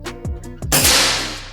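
A single air rifle shot cracks out loud and close with a sharp report and a fading tail, following a few short tonal chirps.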